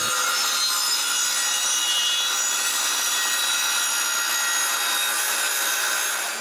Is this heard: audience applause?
no